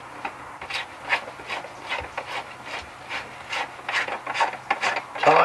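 A plastic nut spun by hand onto the threaded bulkhead fitting of a DIY pond skimmer, giving a run of short, close scraping and rasping turns in an uneven rhythm, with no talk over it.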